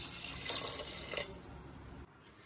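Water splashes in a short close stream into a pressure cooker holding soaked chickpeas with salt and turmeric, then cuts off, leaving a faint trickle.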